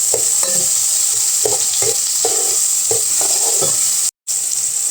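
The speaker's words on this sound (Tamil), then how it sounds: "வெங்காயம் தக்காளியும் போட்டு நல்லா வதக்குங்க" Chopped onions and tomatoes sauté in a pan while a spatula stirs them in quick scraping strokes over a steady sizzle, with a short dropout near the end.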